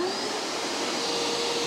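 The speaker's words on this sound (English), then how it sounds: "All right, now we'll turn on the vacuum." A vacuum cleaner, fitted with a smaller hose taped to its end, blows air into a tank, a steady close whirring roar with a constant hum throughout and no talking.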